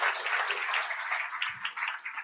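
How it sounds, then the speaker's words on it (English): Crowd applause at a university education convocation ceremony, a fairly soft, continuous wash of many hands clapping that holds steady throughout, with no speech. "So give them a round of applause."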